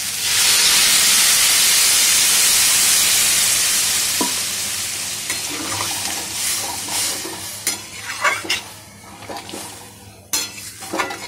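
Hot water poured into a hot frying pan of curry hisses loudly and steadily for about four seconds, then fades to a gentle simmer broken by sharp clinks of a utensil against the pan.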